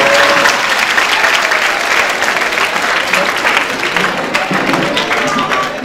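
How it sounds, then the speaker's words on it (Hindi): A crowd at a Gandhi Jayanti political programme claps loudly and continuously for the cameraman, dense applause filling the whole stretch with faint voices mixed in. "एक बार कैमरामैन के लिए ताली बजाइए"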